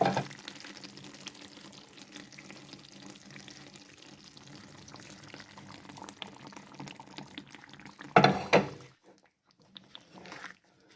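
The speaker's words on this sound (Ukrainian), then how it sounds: "Заливаю цю сковорідку водичку" Water is poured into a hot frying pan just used to fry meatballs, giving a steady hissing sizzle and bubbling that swells into a louder burst near the end, then drops to quiet clinks.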